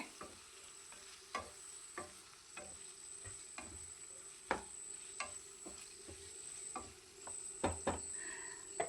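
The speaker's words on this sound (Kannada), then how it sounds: "ಈಗ ಇದನ್ನು ಒಂದು ಸ್ವಲ್ಪ ಹೊತ್ತು ನಾನಿಲ್ಲಿ ಹೀಗೆ ಮಿಕ್ಸ್ ಮಾಡ್ಕೊಳ್ತಿದ್ದೀನಿ ಅಷ್ಟೇ" Potatoes and paneer fry in a pan for an aloo paneer masala, with a soft, steady sizzle under scattered clicks and scrapes of a spoon as they are stirred.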